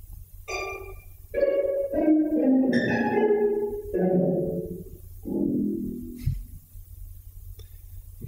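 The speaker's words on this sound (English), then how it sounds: "This is not really a reduction, but rather an extraction of the pizzicati from the texture." Plucked string pizzicati pulled from the orchestral texture of Xenakis's Metastaseis, scattered bright plucks and clustered pizzicato bursts in shifting, irregular rhythm over a low steady hum, moderately loud throughout.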